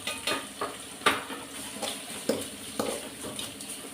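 Tamil-style tomato kulambu base sautéing in a pan with Kashmiri chilli and kulambu chilli powder, a steady sizzle broken by a series of scraping stirs at irregular intervals, close and moderately loud with no talking.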